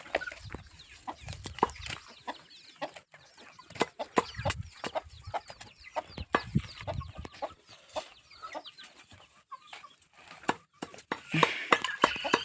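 Backyard chickens kept with a water drinker cluck in irregular bursts close to the microphone, with scattered bird calls and faint movement noise, and a louder flurry of clucking near the end.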